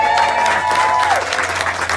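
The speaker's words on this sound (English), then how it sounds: "Everyone start cheering." Outdoor crowd at a road celebration applauds and cheers, a dense wash of clapping over two seconds, with a sustained tone heard partway through.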